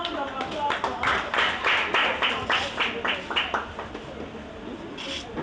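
A crowd of students at a book event applauds, with a dense run of sharp claps that quickly settles into a rhythmic beat before fading to a few scattered claps.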